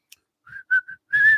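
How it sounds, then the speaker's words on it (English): A person whistles a few short, clear notes in a halting pattern, then holds one longer, steadier tone at the end, close and fairly loud with silence between the notes. "I would rather you whistle than hum."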